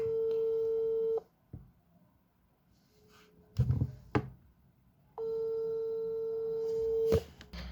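A WhatsApp call ringing tone, a steady electronic tone that sounds in two long stretches separated by a pause, with a few clicks and rustles in between; no talk.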